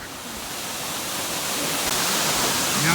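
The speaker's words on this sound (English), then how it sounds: "Now this is a proper waterfall." Cachoeira Serra Azul, a 46-metre waterfall near Cuiabá, roars as a dense, steady broadband rush that swells slightly louder, with no voices over it.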